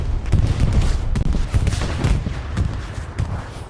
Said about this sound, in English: Legion throwing grenades onto the airhead.